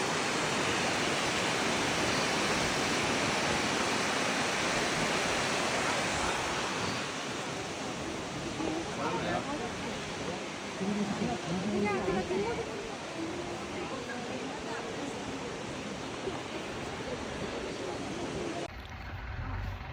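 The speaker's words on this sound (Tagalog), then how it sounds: "Ayan ang falls." Rushing roar of Shirahige Falls, a waterfall near Sapporo, fills the scene as a broad steady wash of noise, with voices briefly talking over it midway before it cuts off near the end.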